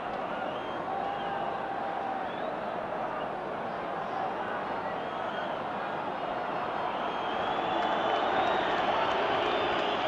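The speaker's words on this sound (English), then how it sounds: "Crowd a little irritated by that." Large football stadium crowd at a 1978 World Cup qualifier between Scotland and Czechoslovakia, a steady broad murmur and restless grumbling that swells slightly louder near the end, with commentary voices faintly underneath.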